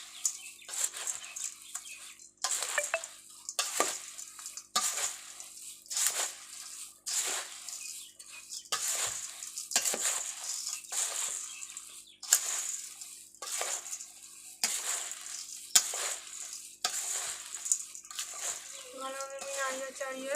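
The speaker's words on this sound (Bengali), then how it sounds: "ভালোভাবে আমি নাড়িয়ে চাড়িয়ে মুড়িটাকে মাখিয়ে নেবো সব কিছু" Puffed rice for jhal muri being tossed and mixed with mustard oil in a bowl, giving repeated dry rustling, crunchy bursts in an uneven rhythm, close and moderately loud, continuing throughout with no voice over it.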